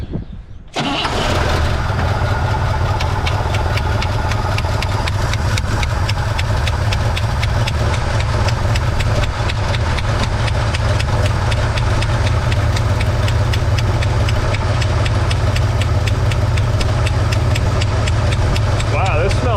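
A 1963 Pontiac Catalina with a 2-barrel carburetor cranks briefly, fires and settles into a loud, steady idle that runs on for the rest of the clip.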